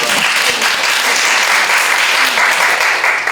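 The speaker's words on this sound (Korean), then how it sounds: "박수 한번 보내드릴게요" Studio audience at a Korean talk show gives a steady burst of applause, dense and sustained, with no voices over it.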